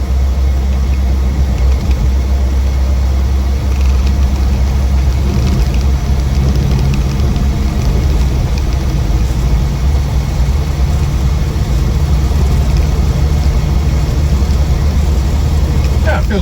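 A 1968 Morris Traveller, restored, sits with its engine idling in a steady, loud low rumble that holds unbroken throughout.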